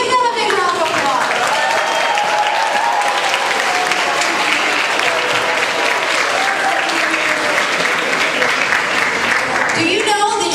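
Audience at a middle school awards ceremony breaking into sustained, loud applause, a dense even roar of clapping with some crowd voices, lasting about ten seconds before talk resumes.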